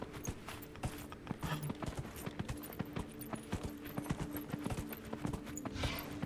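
Horse hooves clip-clop in the video game Dragon Age: Inquisition. A steady run of crisp, close hoofbeats sounds alone, with faint background tones under them.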